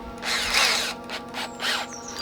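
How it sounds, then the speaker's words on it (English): A power drill with an 8mm bit bores holes in a rusted chiminea, with two short whining bursts of drilling at close range and a faint mechanical hum between them. "So I'll just drill some holes in random locations"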